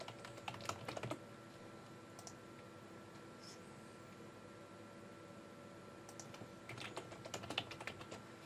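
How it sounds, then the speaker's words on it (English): Typing a password on a computer keyboard during a Cisco Jabber and CUCM setup, with a short burst of quiet key clicks at the start and another burst near the end, separated by a faint hum. "Put in the password."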